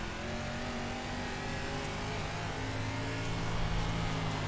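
A limited late model race car engine in the iRacing sim at Weedsport drones steadily, its pitch shifting slightly as it works through a corner, continuous and fairly faint.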